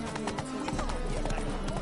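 Roach the horse galloping in The Witcher 3, rapid rhythmic hoofbeats pounding close and loud over a short burst, mixed with a voice talking at the same time.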